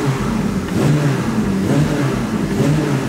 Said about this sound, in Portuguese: Ligar o motor aqui, senão a galera não escuta